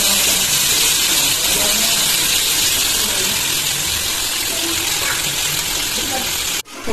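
Fish fries in oil on a tawa with a steady, loud, dense sizzle that carries on throughout and drops away abruptly at the very end.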